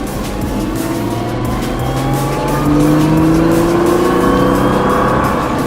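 Powering out of a corner on a race track, a race car's engine rises steadily through the revs, loud and close, with rising tones stacking up and a faint squeal of tires.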